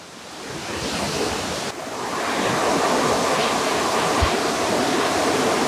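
Kothapalli waterfall pouring at full force, a loud, steady roar of rushing water heard close by and continuing throughout, with a slight swell in volume partway through.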